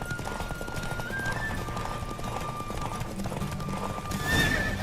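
A horse in The Witcher 3 gallops with steady, rapid clip-clop hoofbeats over a wind-like rush, then gives a loud whinny near the end.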